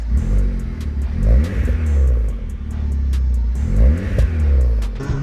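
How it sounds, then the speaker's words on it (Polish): A small car engine revs up and down repeatedly, a buzzy, rumbling note rising and falling in quick pulls, close by. "możecie mieć małe zadziorne autko, które brzmi tak"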